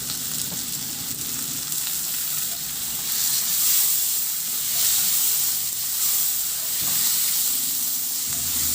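Onions and tomatoes sizzle steadily while sautéing in a pan for a pork liempo soup, a bright continuous hiss with occasional stirring clatter, close and alone with no talk.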